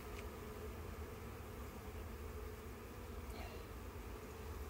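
Honey bees at an open hive in spring drone in a steady, dense buzz that fills the background without pause.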